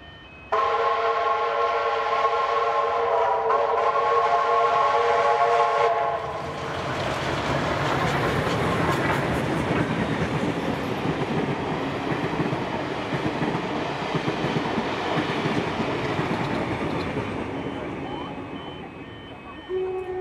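A loud whistle blares for several seconds, then steam locomotive 6029 rumbles and clatters past nearby through Exeter, New South Wales, the noise slowly fading before a brief tone at the end.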